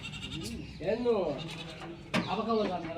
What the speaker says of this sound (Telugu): పోతాంది పిల్ల మేక కూడా